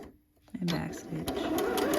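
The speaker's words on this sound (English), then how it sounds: "And back stitch" A sewing machine back stitches along a French seam on a mock neck bell sleeve top, a short run of quick mechanical stitching bursts close by, with someone speaking over it.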